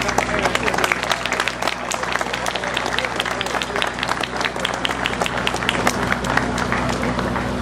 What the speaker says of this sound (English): We have a round of applause for Verdin Bell Company